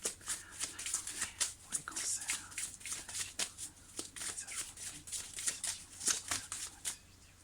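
Tarot cards being shuffled for a reading make a quick run of crisp riffling and flicking bursts that repeat in an uneven rhythm, close and fairly soft.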